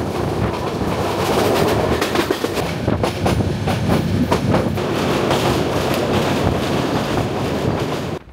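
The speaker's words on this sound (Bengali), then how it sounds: "এখন আমাদের ট্রেন চলেছে সীতাকুণ্ড হয়ে" Passenger train travelling from Cox's Bazar to Dhaka, a continuous loud rolling rumble with repeated clattering wheel clicks and some wind buffeting, steady throughout and without voices.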